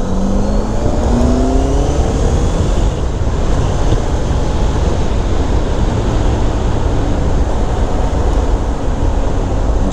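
A Honda CBR650F ridden on the road, its engine droning and rising in pitch under heavy, steady wind rush, with no talking.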